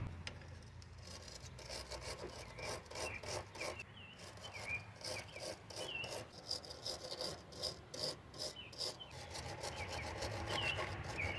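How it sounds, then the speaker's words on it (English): A metal wire brush scrubs a cracked, torn-boot front lower ball joint on a Honda CR-V, giving a steady run of quick raspy strokes, close and moderately loud, with no talking. "Metal brush."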